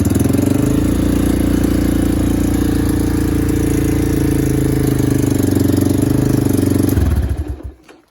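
A stock 2009 Honda CRF230 dirt bike idles on choke with a high, steady thumping engine note, loud and close, then the motor cuts off and winds down to silence at the end.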